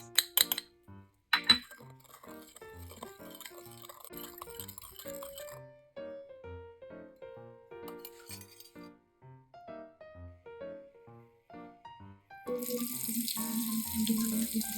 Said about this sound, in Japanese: 30分ぐらい置いてから軽く水で洗います